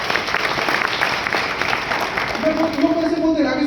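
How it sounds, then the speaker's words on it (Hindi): An audience claps loudly and steadily for a man named Sam, a dense roar of applause that continues throughout. "मैं चाहता हूं मिस्टर सैम के लिए जोरदार ताली"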